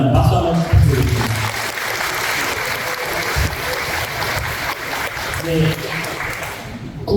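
Residents applaud at a redevelopment briefing for Eunha Village in Jung-dong, Bucheon: a sustained wash of clapping from a seated audience, with a speaker's voice running over it.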